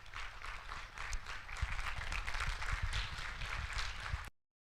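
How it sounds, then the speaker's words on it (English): An audience at a TB and lung health symposium claps for the speakers, a steady, moderately distant patter of applause that lasts about four seconds and then cuts off abruptly. "We can arise and clap for them"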